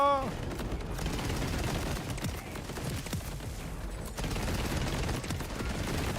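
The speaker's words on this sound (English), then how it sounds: "Rocket launcher!" Rapid gunfire and explosive bursts from a rocket launcher in Borderlands, loud and continuous over the whole stretch, layered with game effects.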